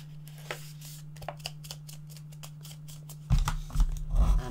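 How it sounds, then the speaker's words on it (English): Paper pieces for a small Christmas mini album are folded in half, giving soft crisp creases and taps that build to louder rustling near the end, close and alone. "then we're just going to fold these in half"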